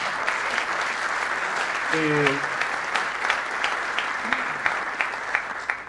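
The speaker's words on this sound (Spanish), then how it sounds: "Y quiero un aplauso" An audience at a political forum on Santa Fe's productive system breaks into sustained applause, a dense wash of clapping with a voice briefly calling out over it.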